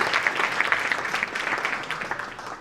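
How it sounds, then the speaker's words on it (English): An audience at a Martin Luther King Jr. scholarship breakfast claps in warm, sustained applause that tapers off slightly toward the end. "Let's give them another big round of applause."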